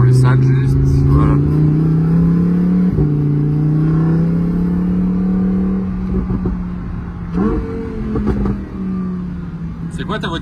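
A Lamborghini Huracan Evo engine hums steadily up close, its pitch stepping and dropping as it downshifts with engine braking, with a voice talking over the engine drone.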